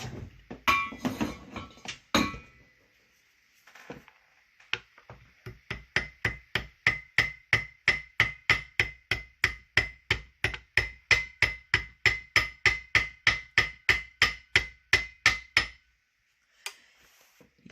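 Steady hammering on a McCulloch 1-70 chainsaw, around thirty sharp ringing metal blows in an even rhythm, close and loud, after a brief burst of clattering at the start.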